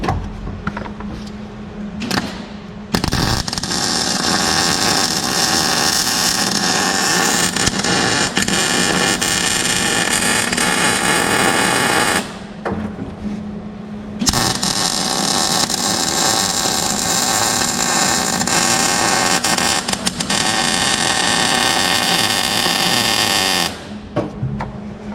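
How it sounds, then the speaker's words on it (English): Welding on a project build, a loud harsh buzzing hiss in long sustained runs broken by short pauses between beads, close and continuous with no voices. "Let's get her welded. Oh, I'm gonna weld from across the way here."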